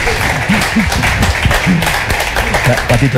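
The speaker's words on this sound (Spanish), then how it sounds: "un aplauso para Rodrigo Fresán" Audience applause fills a room as a guest is welcomed onstage, steady and dense clapping with a voice talking over it.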